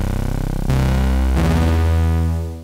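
Serum-made analog-style lead synth horn for techno breaks and drops, processed with glue compression and EQ; a loud, sustained harmonic stack that steps up in two stages before holding and fading at the end.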